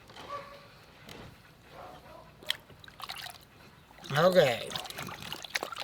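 Gold panning material lowered underwater in a pan, with gentle trickling and sloshing water building to a louder splash near the end, while a person speaks briefly.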